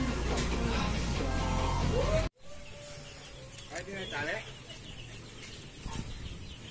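Rhode Island Red and Kabir chickens clucking softly nearby, scattered calls over a farm background, with a person talking through the first part.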